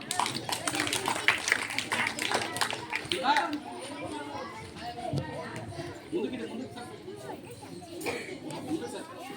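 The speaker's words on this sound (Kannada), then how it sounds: "ಜೋರಾದ ಚಪ್ಪಾಳೆಯ ಮೂಲಕ ಸ್ವಾಗತಿಸೋಣ" A crowd claps loudly and densely for several seconds at an Independence Day short play about Bhagat Singh, then the applause thins out beneath overlapping voices and chatter.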